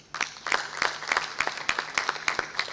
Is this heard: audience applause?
yes